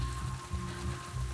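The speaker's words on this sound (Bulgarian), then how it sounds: "виж го дъжда, бе, виж как" Steady rain falls in The Last of Us Part II, a dense, even hiss of drops on surfaces that carries on without a break.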